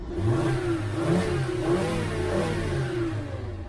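A 2007 Volkswagen Jetta MKV with 240,000 miles revs steadily up and down close by, its mid-pitched engine drone rising and falling continuously with a faint mechanical clatter and no talking.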